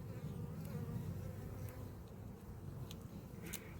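Honeybees buzz steadily at an apiary hive where young bees are emerging, a dense continuous hum close by with no talking.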